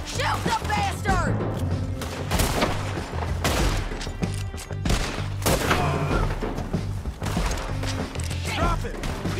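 Gunfire in Red Dead Redemption 2: dense, loud bursts of shots and heavy thumps crackle through a chaotic battle, with voices shouting over the ongoing exchange.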